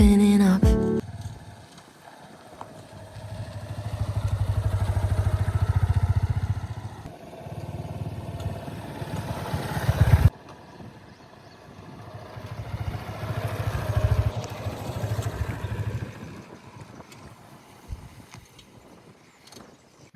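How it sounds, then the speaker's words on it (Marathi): Yamaha FZ25 motorcycle on a ride in Tamhini Ghat, its engine a low steady rumble that swells and fades over about twenty seconds, with wind and road noise mixed in and a sharp knock near the start. "ही आहे आपली बाईक FZ250."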